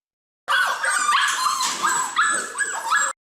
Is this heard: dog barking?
yes